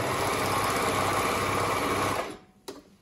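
A three-thread overlock sewing machine, run from its foot pedal, stitches fabric in a loud, fast, continuous whir for about two seconds. It then stops abruptly, followed by a single brief click.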